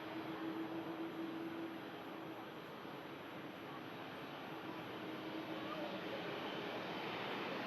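An airliner touches down at Manchester Airport, a broad, steady engine roar heard from a distance that holds evenly throughout with no one speaking.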